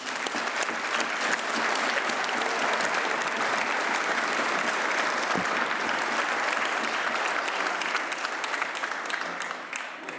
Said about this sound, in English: je vous demande encore une fois de bien vouloir applaudir le comité national italien